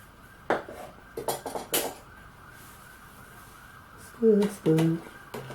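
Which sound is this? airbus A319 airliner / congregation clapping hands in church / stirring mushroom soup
stirring mushroom soup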